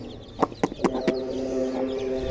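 A hen with her chicks gives a quick burst of several sharp clucks close by, followed by softer drawn-out clucking calls, with no talk.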